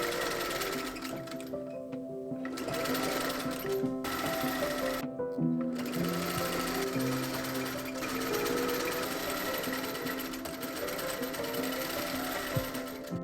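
A sewing machine runs steadily, stitching corset pattern pieces of outer fabric and lining together for a late Victorian riding corset, with brief pauses between runs of continuous mechanical whirring and no talk.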